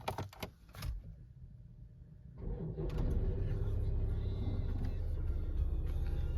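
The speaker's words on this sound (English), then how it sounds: "this is starting the car from cold" A Land Rover Range Rover Evoque starts from cold: a few clicks and a brief crank, then the engine catches into a steady low idle rumble that holds, heard from close by inside the car.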